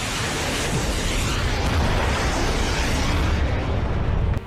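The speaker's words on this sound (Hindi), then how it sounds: "ताइवान के पास समंदर में विस्फोट।" Explosions rumble across the sea near Taiwan during a Chinese live-fire drill, a sustained loud roar of blasts and rushing noise that continues without a break before cutting off sharply at the end.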